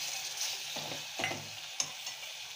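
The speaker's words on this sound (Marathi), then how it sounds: "आता त्याच्यात या धुतलेल्या वाकट्या घालते" Washed dried fish going into a hot pan of sautéed masala, a steady hiss of frying with a few scraping stirs and a sharp tap near the end.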